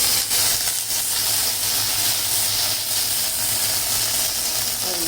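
Butter sizzling steadily in a hot pan before vermicelli goes in, a loud, even frying hiss that runs unbroken throughout, close and with no voices.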